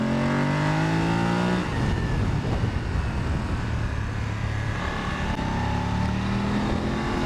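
A motorcycle engine revs up and accelerates, loud and close, with the pitch climbing, dropping as it shifts, then climbing again.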